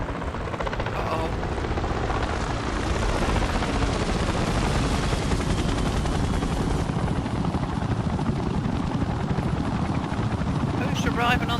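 A helicopter's rotor in the video game Secret Files 2: Puritas Cordis throbs steadily and loudly overhead, a continuous chopping drone that swells slightly and holds to the end.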